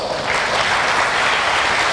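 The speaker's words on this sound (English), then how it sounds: "Give yourselves a big round of applause." Steady, dense applause from an audience at a large event, filling the moment evenly with no talk over it.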